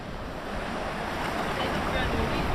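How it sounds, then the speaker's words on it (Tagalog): Ocean waves surge into a lagoon at high tide on a Northern Samar coast, a continuous roaring wash of surf with wind buffeting the microphone. "ang lakas ng alon dito"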